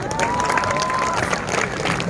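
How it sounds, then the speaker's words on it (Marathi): Village women gathered at a Home Minister prize-giving event clap loudly alongside crowd cheering and chatter, a busy, continuous wash of noise with a faint whistle-like tone drifting through the first half. "जोरात टाळ्या वाजवा"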